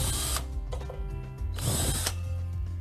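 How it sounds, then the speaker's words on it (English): A power drill fitted with a 2-inch hole saw bores through a plastic bucket lid, grinding steadily in two loud bursts with a brief slowdown between them, close and with no voices. "a 2-inch hole saw drill bit to drill out the holes in the lid of our bucket"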